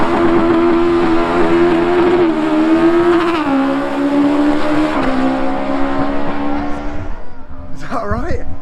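A motorbike engine revs hard and steady at close range, pitch dipping slightly in steps, loud and continuous before easing off, with a brief voice near the end.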